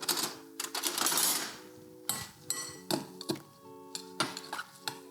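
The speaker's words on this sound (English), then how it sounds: "Give that a stir." A spoon stirring a bean mixture with a squeeze of lime in a bowl, giving several light clinks and scrapes in uneven bursts, close and fairly quiet, with no talking.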